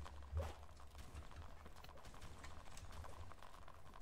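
Horse hooves clip-clopping in a video game cavalry battle, a faint steady patter of many hoofbeats with a slightly louder thud near the start, under quiet background game noise.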